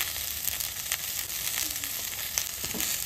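Potatoes with onion, salt and turmeric sauté in a pan with a soft, steady sizzle and occasional light stirring scrapes, heard close and fairly quiet without any talking.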